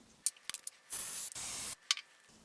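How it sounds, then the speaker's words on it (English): Valvoline brake cleaner sprays in a steady, hissing burst just under a second long into a plastic cup, with small clicks and taps before and after it, close and fairly quiet. "The Valvoline has very good control over spraying it, and right away it's marking up the inside of this cup"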